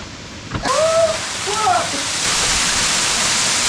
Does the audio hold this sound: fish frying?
no